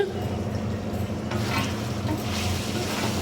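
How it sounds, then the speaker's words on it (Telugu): Ginger, turmeric and salt fry in a pan for a chicken fry, a steady, close sizzle with stirring scrapes and soft pan contact. "అల్లం వేసుకొని ఒక టూ మినిట్స్ అయితే ఫ్రై చేసుకున్నాం"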